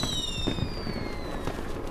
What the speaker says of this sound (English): Let's launch them through the confetti cannon.